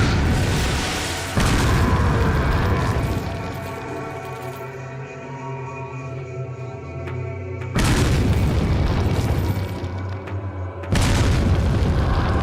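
Loud, deep explosions from a video game where grenades are unlimited, boom after boom in heavy bursts, with a sustained rumbling stretch between the blasts.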